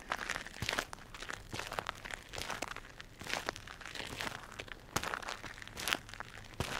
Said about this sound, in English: as you hear your feet crunching in the icy white snow